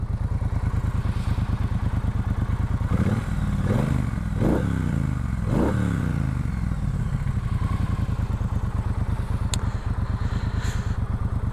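A Triumph motorcycle engine idles with a steady, throaty low rumble, rising in a few brief revs midway before settling back to an even idle, close and continuous throughout.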